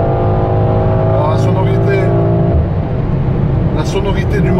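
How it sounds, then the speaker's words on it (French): A new car's engine pulls hard while accelerating on an unrestricted German autobahn. Its loud, steady tone climbs in pitch from inside the cabin, with road rumble beneath and a voice at times. "la sonorité du moteur est pas mal du tout."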